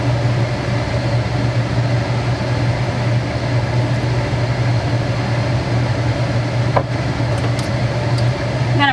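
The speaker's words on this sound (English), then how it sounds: "I'm going to put my fan on" A kitchen range hood fan runs steadily throughout while broth and heavy cream are readied for a cheesy chicken bake, a constant broadband whir with a strong low hum, briefly joined by a faint clink.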